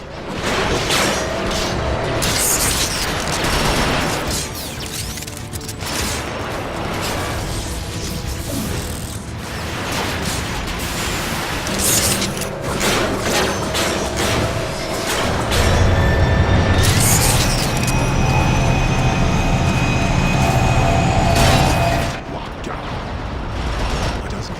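Autobots opening fire in a Transformers: Rise of the Dark Spark battle, a dense, loud stretch of mechanical clanks, booms and crashes with whooshes and metallic whines layered throughout.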